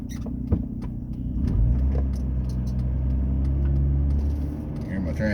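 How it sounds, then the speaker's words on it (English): A high-mileage car with a slipping transmission drives along, its engine rumble swelling and holding a strained, droning low tone, with a brief clunk near the start. "You hear my transmission slipping."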